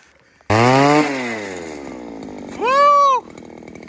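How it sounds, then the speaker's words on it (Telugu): A small gas engine roars to life and drones, then revs up sharply and drops back, loud and close, as an ice auger bores through frozen lake ice in Alaska. "సో ఈ స్నో మొత్తం డ్రిల్ చేసి బయటపడేసేయాలి."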